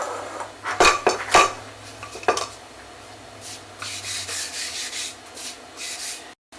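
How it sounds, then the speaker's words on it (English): A wooden rolling pin being floured for pizza dough: a few sharp knocks and clatters, then rubbing and scraping sounds, close and fairly loud, with no talk. "I need to flour my rolling pin."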